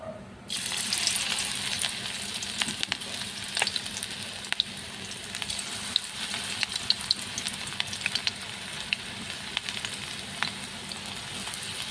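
Onion pakoras made with cornflour deep-frying in hot oil, a steady, close sizzle with crackling bubbles running throughout, no voices.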